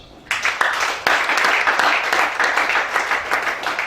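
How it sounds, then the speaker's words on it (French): A church congregation bursts into loud, close applause during a prophetic sermon, the clapping starting abruptly and continuing thick and steady to the end. "Acclamation."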